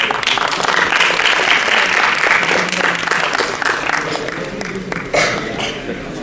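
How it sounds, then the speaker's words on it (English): An education conclave audience bursts into applause for a university guest, a loud, dense wash of many hands clapping steadily for several seconds, with a brief dip near the end before it continues. "Can we have a big round of applause for him?"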